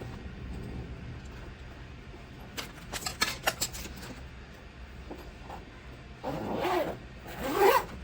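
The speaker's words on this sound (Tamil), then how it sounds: "இதை ஒரு ஜிப் பண்ணிவிட்டு" A makeup vanity bag is zipped up in a series of quick, close zipper rasps over a quiet room tone, with more drawn-out zipping pulls near the end.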